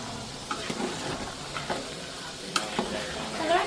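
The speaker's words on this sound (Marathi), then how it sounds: "तेल गरम झालेलं. जिरं घालूया. लसूण पण सोडूया." Cumin seeds and garlic sizzle in hot oil while being stirred, with a steady close frying hiss and occasional scraping stir strokes, no talk.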